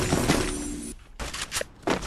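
Gunfire from a battle royale video game, a quick burst of shots and then a couple of sharp single reports after a short gap, loud and close.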